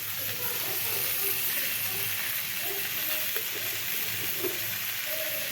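Chopped onion greens fry with turmeric for fried rice, giving a constant dense sizzle and hiss with faint scattered pops and light stirring clicks, close and even throughout.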